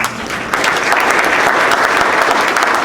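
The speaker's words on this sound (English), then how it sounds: "So please give yourselves a round of applause." Sustained applause from a large audience, dense steady clapping filling the room with a few louder claps rising above the wash.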